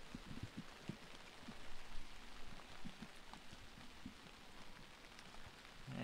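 Steady rain falls outdoors at an amateur football finals day in London, a soft, faint patter of drops on surfaces with scattered louder splats, continuous and with no voices.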